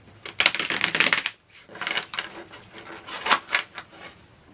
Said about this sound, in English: We're going to start with shuffling our cards.